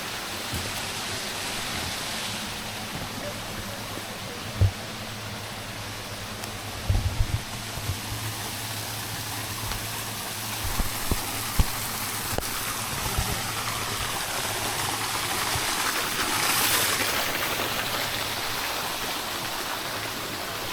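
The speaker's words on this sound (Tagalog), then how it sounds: "man-made pa sila na parang batis." A man-made stream flows steadily at a restaurant near Sapanca, Türkiye, giving a soft, continuous watery rush with a few faint clicks and knocks over it.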